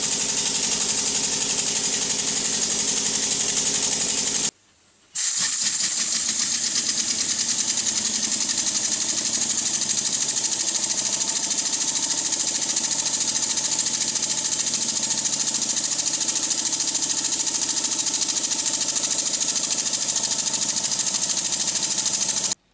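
A homemade rotary valve air engine runs steadily and loudly with a dense, buzzing hiss, stopping briefly once near the start before resuming and running on without a break.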